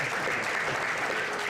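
A brief, steady burst of audience applause at a city council meeting, dense clapping from a roomful of people honoring young artists, even in level and without talk over it.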